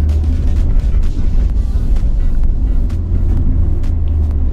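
A Nissan Sentra rolling over a rough, potholed road, with a steady loud low rumble of road and engine noise and occasional thumps from the suspension, and no talk.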